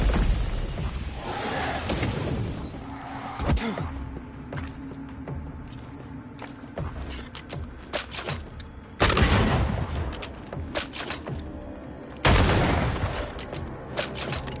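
Gunfire rings out in the video game Banishers: Ghosts of New Eden, with several sharp shots and bursts over clanking movement and footsteps, some heavy blasts loud and close.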